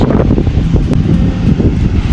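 Strong, steady wind at a beach roars and buffets the microphone, with a dull rushing wash underneath and no voices.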